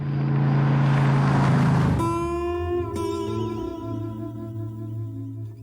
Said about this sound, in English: the director heard the noise that these engines make